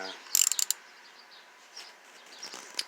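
A small wrench ratcheting as clutch cover bolts are undone on a Ninja 250 motorcycle, a quick burst of close metallic clicks followed by fainter scattered ticks.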